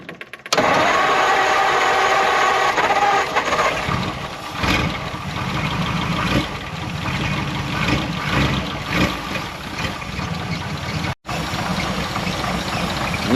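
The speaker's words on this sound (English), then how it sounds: "turn on the fuel pump, crank her up" Old stock flathead engine in a classic hot rod cranks and catches after a brief pause, then runs with a steady rough idle close by for the rest of the stretch, briefly cutting out near the end before resuming.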